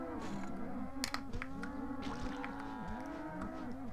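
Cattle mooing in the South Park N64 video game, several overlapping low bellows from a field of cows in quick succession, fairly close and clear.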